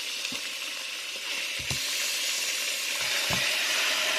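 Chicken wings go one by one into a hot pot, setting off a continuous hissing sizzle with a few soft thuds as each piece drops in.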